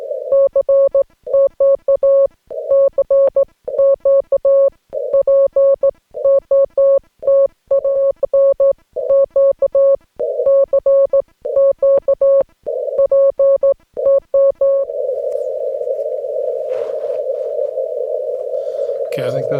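Morse code keyed on a ham radio at a portable park activation in Pinnacles National Park: steady rhythmic beeps of a single mid-pitched tone in short and long bursts for about fifteen seconds, then a continuous unbroken tone.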